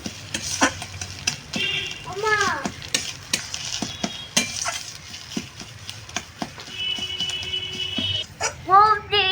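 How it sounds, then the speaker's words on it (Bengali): Mustard flower paste with sugar being stirred in a pan, a spatula scraping and clinking in irregular strokes over a soft sizzle, with brief clatters of utensils throughout. "দিয়ে এটাকে ভালো করে নাড়াচাড়া করে নেবো যতক্ষণ না চিনিটা গলে যাচ্ছে"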